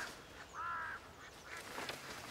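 Ducks quacking in a scene from a German television drama, one clear nasal quack followed by a few fainter calls against quiet outdoor background.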